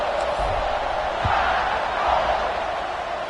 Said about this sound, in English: Crowd is buzzing after that last score.